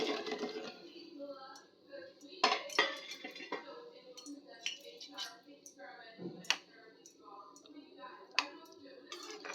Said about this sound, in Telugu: ఇప్పుడు ఈ షుగర్ సిరప్లో ఈ వేయించిన ఉండలు వేసుకుందాము